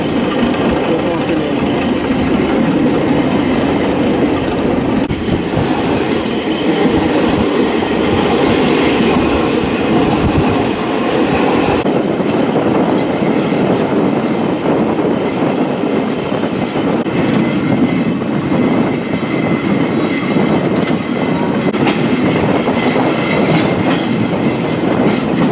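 Loud, continuous rumble of a train rolling along the tracks, with steady rhythmic clatter of wheels over rail joints and a constant mechanical roar.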